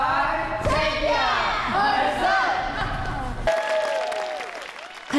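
A theater audience at a world DI creativity competition breaks into loud, sustained applause, dense clapping with some crowd noise mixed in, continuing for several seconds.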